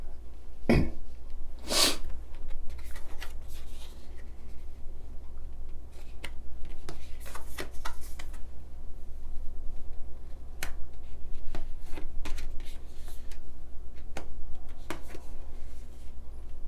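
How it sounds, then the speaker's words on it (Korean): Tarot cards being spread out on a table, making soft papery swipes and a couple of sharper snaps near the start, then scattered light taps and rustles against a steady low hum. "카드 한번 펼쳐 보겠습니다."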